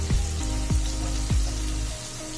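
Paneer pieces frying in a pan over a medium flame, giving a steady close-up sizzle and crackle. A few sharp pops and spatters stand out near the start.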